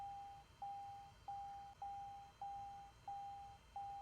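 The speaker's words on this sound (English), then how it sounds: "ignore the beeping in the background" Regular electronic beeps repeat about every two-thirds of a second in the background, steady and faint, over low hum from a Microsoft Flight Simulator 2020 session. No one talks.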